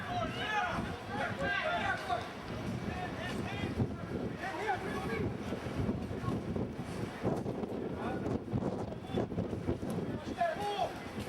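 Wind buffets the microphone with a steady low rumble while players talk and call out over it at an outdoor ball match.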